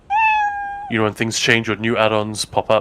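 A pet cat lets out one clear, drawn-out meow close to a microphone, then a person starts talking right after it.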